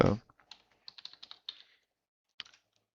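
Light, quick keystrokes on a computer keyboard come in a short irregular burst of clicks, then a brief pause and a few final taps, close and fairly quiet with no talking.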